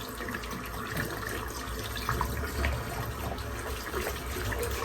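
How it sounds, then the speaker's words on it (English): Running water from a tap rinses soap out of a shaving brush, a steady close splash and gush of water with brief sloshing changes as the brush moves through the stream, no talking. "Rinse the brush out. So much soap left in the brushes."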